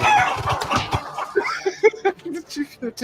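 A chicken clucking sound effect, with a run of short, close, rhythmic clucks following a burst of talk and laughter at the start of a livestreamed chat.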